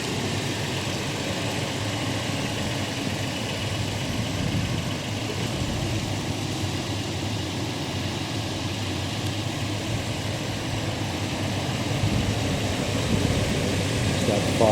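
A 2021 Toyota Tacoma TRD Sport 4x4 idling outdoors in cold weather makes a steady, even engine hum that holds constant throughout and swells slightly near the end, with no one speaking.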